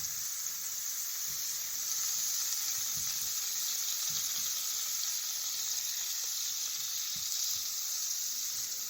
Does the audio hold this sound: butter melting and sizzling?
yes